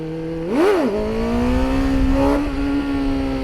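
A motorcycle engine revs during a wheelie, the pitch rising sharply in a quick blip and then holding a steady, slightly climbing drone as the throttle stays fixed, moderately close.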